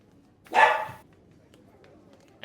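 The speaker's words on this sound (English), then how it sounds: "And apparently there's a dog somewhere nearby that's barking." A dog barks nearby down an alleyway, a short burst of a bark or two around the half-second mark, fairly loud, followed by quiet room tone.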